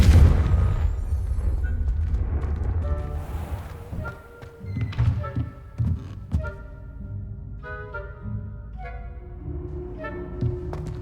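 A Confringo blasting spell goes off in Hogwarts Legacy, a deep rumbling explosion rolling out at the start, followed by further booming thuds and magical chimes.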